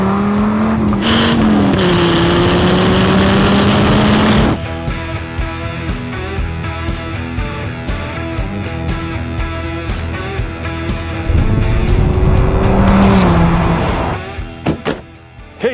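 A VW Golf R hot hatch and a 30-year-old Dodge Viper race each other, with loud engines revving and surging close by at the start. The noise drops to a quieter stretch with knocks, then returns as another strong acceleration swells and fades.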